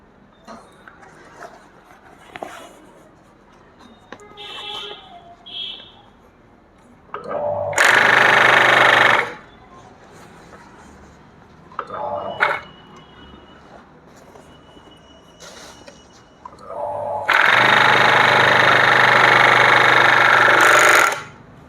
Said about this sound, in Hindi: अब फिर से सिलाई करते हैं।